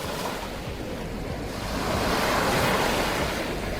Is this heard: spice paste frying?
no